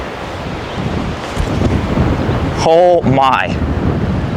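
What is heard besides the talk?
strong headwind blowing on a disc golf course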